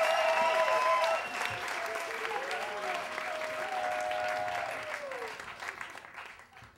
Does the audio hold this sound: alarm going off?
no